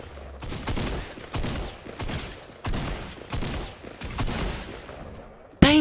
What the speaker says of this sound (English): I was literally shooting. I pressed the button and he shot faster than me.